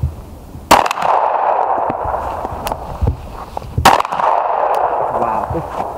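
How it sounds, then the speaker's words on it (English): Two sharp, loud pistol gunshots crack about three seconds apart at an arctic pistol shooting competition, each followed by a ringing echo and lighter clanking between them over a steady outdoor background. "It's pretty lousy shooting there, bro."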